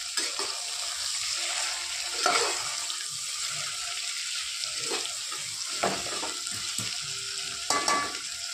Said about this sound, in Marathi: थोडासा कांदा लाल होईपर्यंत परतून घेणार आहोत.